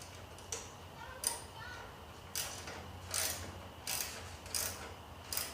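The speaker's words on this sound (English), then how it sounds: "Tighten down the socket." A socket wrench ratchet tightens the roller on a reel mower, giving about six separate ratcheting clicks spaced roughly a second apart, close and fairly loud.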